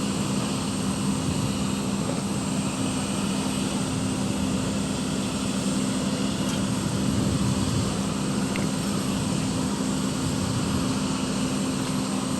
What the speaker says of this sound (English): we can get the airplane coming into the ramp, because the 747 is substantially bigger than the 767